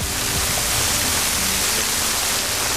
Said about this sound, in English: This is the Hughesdale Waterfall, and it's the most famous dale on the island.